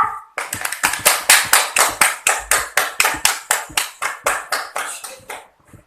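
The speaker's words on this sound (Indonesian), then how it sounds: "Yuk, beri tepuk tangan untuk teman kita." Elementary classroom students clap together in a steady, rhythmic unison beat for a classmate during an Islamic jurisprudence lesson, about two dozen sharp synchronized claps that slow and fade near the end.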